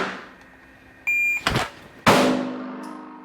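A shot timer gives a sharp, steady electronic beep lasting about a third of a second, then two loud, close gunshots ring out at an outdoor range with a berm.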